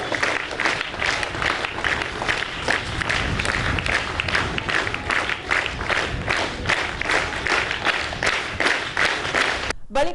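Sustained audience applause at a Hosapete event honoring Dr. Shivanand, with distinct hand claps pulsing in a loosely rhythmic pattern for about ten seconds before cutting off abruptly.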